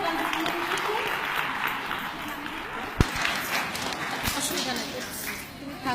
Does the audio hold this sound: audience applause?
yes